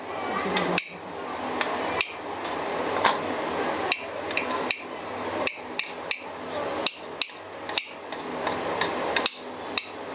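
Child banging on a dinner plate of khichuri and egg, giving sharp repeated clanks at an irregular rhythm, close and fairly loud, with no speech.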